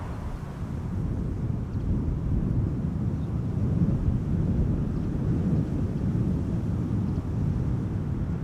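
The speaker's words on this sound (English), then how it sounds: "Nippon cargo has been pushed back and will be taxiing to center" Low, steady rumble of a Nippon Cargo aircraft taxiing at Amsterdam Schiphol Airport, heard from a distance with wind buffeting the microphone throughout.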